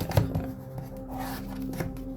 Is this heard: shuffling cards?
yes